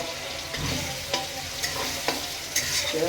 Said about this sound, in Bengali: তেলের মধ্যে এভাবে নেড়ে নেবে